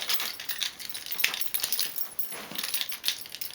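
Keys with a clay bag charm attached jingle and clink softly in small, irregular bursts, close by and fairly quiet.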